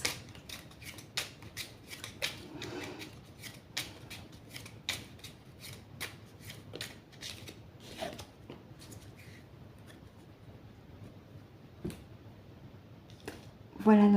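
Oracle cards from a Star Seeds deck are shuffled, giving a run of quick papery flicks and taps, fairly close and soft, with someone talking over them.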